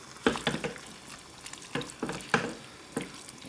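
Masala-coated chicken sears in a hot pan for a curry, a steady sizzle broken by repeated sharp bursts as the pieces are stirred and turned.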